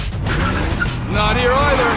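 Cartoon monster truck tires squealing as the truck burns rubber on Monster Trucks Island, a rising screech under continuous engine roar and loud music, lasting about two seconds.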